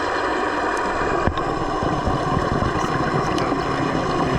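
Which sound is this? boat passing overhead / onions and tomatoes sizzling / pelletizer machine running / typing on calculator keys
boat passing overhead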